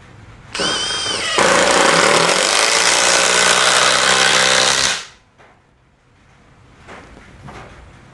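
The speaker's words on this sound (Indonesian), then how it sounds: "secara otomatis impact driver ini akan mempercepat laju atau putaran dari motornya" A Makita TD172D impact driver run at full trigger: a high-pitched motor whine that quickly shifts into a loud, sustained rapid hammering for about four seconds, then stops, followed by quiet handling noises.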